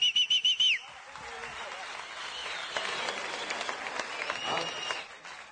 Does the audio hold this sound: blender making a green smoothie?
no